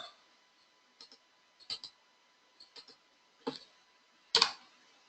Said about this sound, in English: go ahead and click on it.